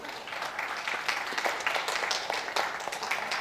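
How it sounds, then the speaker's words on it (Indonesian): An audience at a doctoral promotion exam at Universitas Tadulako claps for a perfect grade, a brief burst of many hands clapping in an indoor room that holds steady for a few seconds. "Tepuk tangan dulu."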